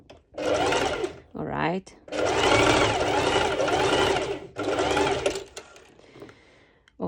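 A sewing machine runs a straight stitch on swimwear bikini bottom fabric, loud, close whirring in several sustained bursts separated by short pauses, with a brief spoken remark between runs.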